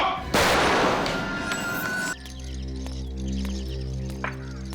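A single sharp gunshot cracks out loud and close in a dramatic crime-show scene, followed by a steady low electrical hum with faint scattered sounds.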